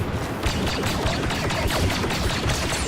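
Dense, continuous gunfire from a video game, a steady loud barrage of rapid shots filling the whole stretch with no talk over it.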